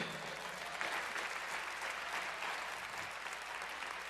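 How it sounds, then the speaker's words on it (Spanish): A church congregation applauds, a dense, steady wash of clapping from many hands that holds evenly throughout, heard at a modest level. "Dele un aplauso al Señor"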